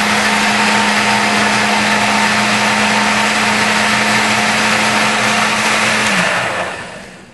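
A blender whirs loudly and steadily with a constant motor hum, then winds down near the end as the motor shuts off.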